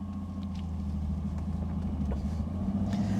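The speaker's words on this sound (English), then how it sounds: "The Ford V6 sounds quite nice and is fairly cultured, not under strain anyway, at these lower revs." A Ford V6 engine in a Reliant Scimitar hums smoothly at low revs, a steady low rumble heard from inside the car with faint road noise.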